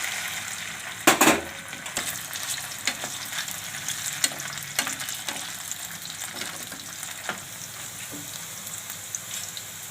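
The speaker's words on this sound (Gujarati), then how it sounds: "તો બટેટાને આપણે ફ્રાય કરવાના છે। તો આપણે બધાય બટેટા એમાં નાખી દેવું।" Potatoes frying in a pan for a soya vadi and potato curry, with a steady soft sizzle, a loud clattering burst early on and scattered small pops and stirring taps.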